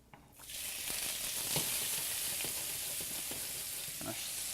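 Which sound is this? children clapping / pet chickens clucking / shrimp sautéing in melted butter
shrimp sautéing in melted butter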